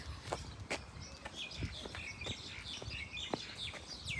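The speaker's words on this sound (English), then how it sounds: "Here you can hear the birds singing over us." Birds chirp and trill overhead around 4 o'clock in Pardes Hanna, Israel, fairly faint, while footsteps crunch along below them.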